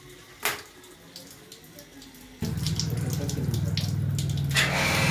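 A large pressure pump on a 1000 LPH RO water plant takes up water. There is a quiet stretch with a single knock, then a sudden steady rush of running water that stays loud to the end.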